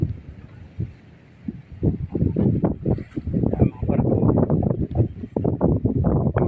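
Gusty seaside wind buffets the microphone in loud, irregular low rumbles, with an outdoor background underneath.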